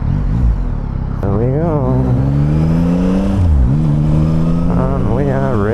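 A 2025 Yamaha MT09 motorcycle revving hard and accelerating to overtake a car, its engine note climbing and sweeping through gear changes, loud and close, with a brief remark from the rider.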